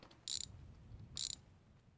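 Two quick, crisp ratchet bursts, each a short clicking run, sound from a ratchet wrench loosening truck wheel nuts in a garage, with quiet pauses between them.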